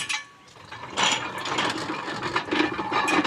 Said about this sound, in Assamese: আৰু এইফালে আছে মেচিন দেখিছে কেনেকুৱাকৈ মেচিনত পানী ওলাই আছে